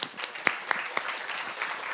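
At a Montreal tech awards presentation, an audience applauds after a prize announcement with sparse, fairly quiet clapping in which a few sharp individual claps stand out.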